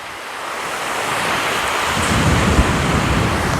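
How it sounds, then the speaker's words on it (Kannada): Strong wind batters the microphone on a hilltop above Srinivas Sagara near Chikkaballapur, a loud, continuous roaring rumble that swells and gusts with no voices. "ಅಷ್ಟು ಗಾಳಿ ಇದೆ ಅಂದರೆ ತಳ್ತಾ ಇದೆ ಇಲ್ಲಿ, ಫುಲ್ ಹೆವಿ ಗಾಳಿ"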